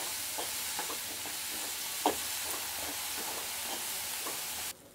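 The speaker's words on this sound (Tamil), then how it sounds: "இப்போ இதை நல்லா வதக்கிக்கோங்க" Bottle gourd seeds sautéing in a pan with mustard seeds and asafoetida, a steady sizzling hiss with scattered light scrapes and taps of stirring, one sharper knock midway, close and continuous until it cuts off near the end.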